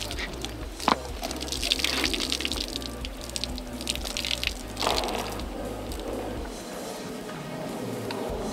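Water from a hose pipe washing a horse, a steady close splashing gush with occasional sharper knocks, running continuously without talk.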